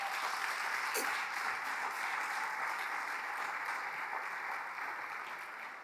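Sustained applause from a church congregation at a preaching conference fills the space, a dense, even roar of many hands clapping that fades slightly toward the end.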